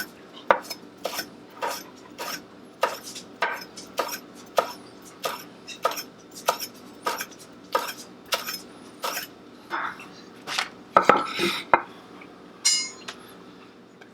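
Short, evenly spaced knife strokes slice rolled leaves into thin strips on a board, a steady series of crisp close cuts with a few louder clatters near the end and no talking.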